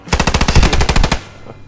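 A machine gun in the Post Scriptum video game fires one fast, loud, close burst of about a dozen evenly spaced rounds, then cuts off into a brief fading echo.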